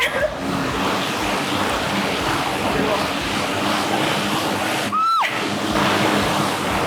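An air bike exercise machine's fan runs after start is pressed, giving a steady rushing whoosh of air like wind, with people talking nearby and a brief electronic beep partway through.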